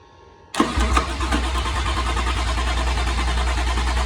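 A Toyota Aristo with a swapped-in 1JZ-GTE engine cranks over loudly and close, then settles into a continuous low churning drone that runs to the end without clearly catching.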